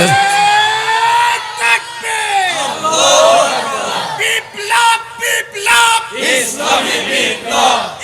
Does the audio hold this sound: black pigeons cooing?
no